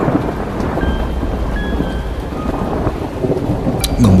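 Heavy, steady rain pours down with deep rumbles of thunder rolling underneath, and a sharper crack near the end.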